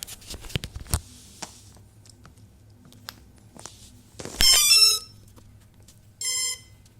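A few sharp clicks as a battery alarm plugs into a quadcopter drone, then two loud electronic beeping bursts with a harsh buzzing tone, the first longer, separated by a short pause.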